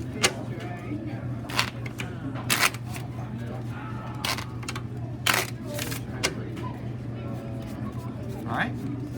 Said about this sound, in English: I can just put them back and shuffle them again and again.